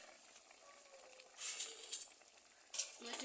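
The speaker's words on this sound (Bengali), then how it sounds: "ইটের চুলা দিয়ে গাছ আলু দিয়ে চিকেন রান্না হচ্ছে" Chicken cooking with potatoes over a brick stove fired with dry leaves: quiet sizzling and frying in short bursts, soft and close, with faint voices behind.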